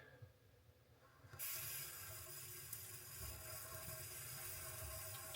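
An RV water pump drives water from a faucet: a steady, loud rush of running water starts abruptly about a second in and holds strong, with a low pulsing pump hum beneath throughout.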